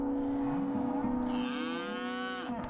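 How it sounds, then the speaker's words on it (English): A single cow lets out a long, loud moo on a farm with a cattle herd and irrigated hay fields, the call swelling and then trailing off, close by, with no talking. "and then we have 120 head of cows."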